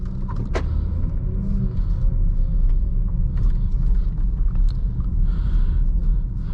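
A 2018 Jaguar F-PACE with the 3.0 supercharged engine pulls away, a low rumble heard from inside the cabin with a few brief clicks and mechanical knocks early on, no talking.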